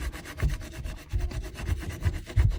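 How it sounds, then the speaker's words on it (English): Scraper tool dragged under firm downward pressure in a Dollar Tree craft project, giving a continuous close rasping scrape with quick rhythmic strokes and no voices. "we're gonna grab, again, scraper tool, apply some pressure down"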